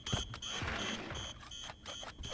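A video game alarm in Secret of the Mimic goes off in loud, repeated high-pitched electronic bursts in a steady rhythm, with no voices.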